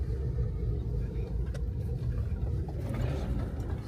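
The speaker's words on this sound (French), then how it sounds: "Première fois que Lulu va conduire." A car being driven, with a steady low engine and road rumble running throughout at close range, no clear voices over it.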